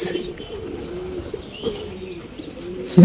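Racing pigeons at a loft coo in soft, low, repeated throaty phrases close by, with a few faint chirps and a brief rustle near the end, and nobody speaking.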